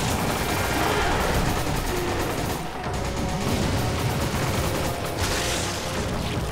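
Dense, continuous gunfire from a Resident Evil 5 gameplay firefight, loud and sustained with rapid shots and crashes layered throughout, no clear pauses.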